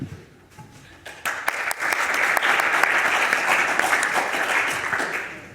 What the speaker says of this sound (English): what I want everyone in the audience to do is to join in and have a round of applause